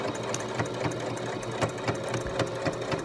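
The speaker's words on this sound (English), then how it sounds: "the sewing machine works a lot better and it makes it a lot sturdier" A sewing machine stitches fabric straps indoors, a fast, even mechanical whir with faint needle clicks running steadily and close, with no talking.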